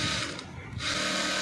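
A sewing machine runs a double line of stitching on a koti jacket, a steady close whir that dips briefly mid-clip and resumes, with no voices.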